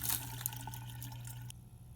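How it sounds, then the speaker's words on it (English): Water runs steadily over aquarium gravel being rinsed for an aquatic chamber, a continuous near splashing wash with a small clatter early on, then cutting to a quieter, thinner trickle for the last half second. "It's important to rinse it really well so that no dust gets in your aquatic chamber."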